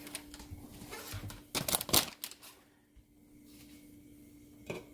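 Leftover butter scraped into a butter jar in a home kitchen, heard as a few close clinks and scrapes of utensil on container, bunched into a brief busy burst, then quiet with a faint steady hum.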